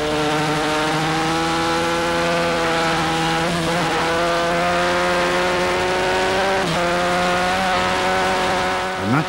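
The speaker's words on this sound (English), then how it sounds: "that's what it looks like when you ride a 750 machine on the TT course" A Honda RC30 750 motorcycle races on the Isle of Man TT road course, its engine screaming loud and continuous at high revs. The pitch shifts as the rider changes gears and passes through corners.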